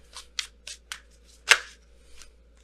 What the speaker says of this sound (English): All cards kept coming, flipping out.